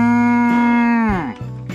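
A cow moos once, a long, loud, close call that holds steady and then slides downward at the end, with no talk over it.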